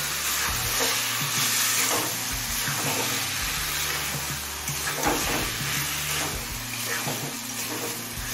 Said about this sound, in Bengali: চিকেনটা দিয়ে মশলার সাথে নাড়াচাড়া করে মিশিয়ে নিয়েছি।